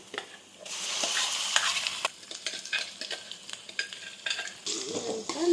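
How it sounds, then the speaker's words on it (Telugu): A spoon stirs ground ivy gourd chutney paste into hot oil with popped tempering seeds in a pan. Scraping strokes come in uneven bursts over a soft sizzle, close and moderately loud, with no talking. "ఆయిల్లో కలిసే విధంగా ఒకసారి కలుపుకోవాలి."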